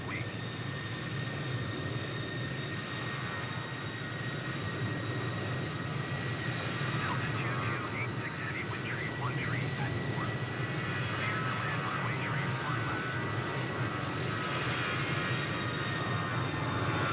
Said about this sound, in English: American A321, taking off runway 4 left.